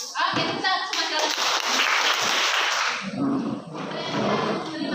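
Schoolchildren in a classroom clap together in a loud, dense burst, mixed with excited shouting and chatter from the kids that continues as the clapping thins out.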